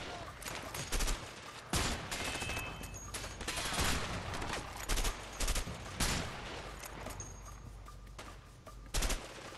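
Dense video game gunfire, bursts of automatic fire and sharp shots stacking into a rapid fusillade over about ten seconds, loud and close with brief gaps between volleys.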